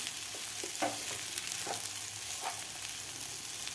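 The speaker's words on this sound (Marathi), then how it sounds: "आता साबुदाणा सुद्धा आपल्याला खालच्या बटाट्यामध्ये व्यवस्थित मिक्स करायचा आहे।" Soaked sabudana is stirred into potatoes in a pan over a steady sizzle, with a few soft scraping strokes of the spoon and no talking.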